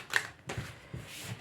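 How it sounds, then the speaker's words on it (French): Tarot cards shuffled and drawn in a quiet room: a few soft, brisk papery riffles and slides, close and faint, with no talk. "Je vais tirer d'autres cartes."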